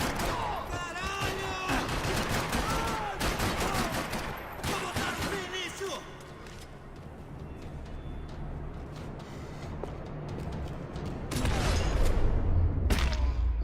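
Rapid bursts of gunfire from the video game Max Payne 3, set in Brazil, crackling in dense volleys with heavy booms and a deep rumble building near the end, loud throughout under occasional game voices.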